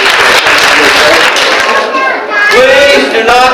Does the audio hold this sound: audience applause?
yes